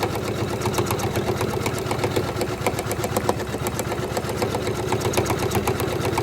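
A Janome 500e embroidery machine stitches a flower onto a hat in orange thread, a steady fast mechanical whirr with dense rapid needle clatter running continuously and fairly loud throughout.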